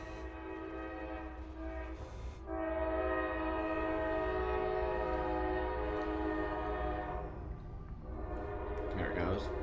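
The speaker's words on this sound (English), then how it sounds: "There's a train coming at my house here," A train passes outside a house, its horn sounding in long, sustained blasts, heard faintly behind someone talking and racing game noise.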